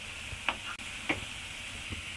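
Thotakura amaranth leaves frying in a pan, a faint, even sizzle with a few soft spatula taps and scrapes, no voices.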